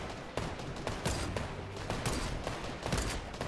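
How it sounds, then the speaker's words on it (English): Semi-automatic sniper rifle fire in OG Fortnite Zero Builds, a rapid string of loud, sharp shots with a few other gunfire bursts mixed in, close and unbroken, with no talk. "This fucking semi-auto sniper is actually nuts."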